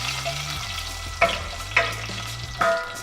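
Garlic, chili, cumin and fennel seeds fry in hot oil with a close, continuous sizzle, broken by a few sharp clinks of a utensil against the pan.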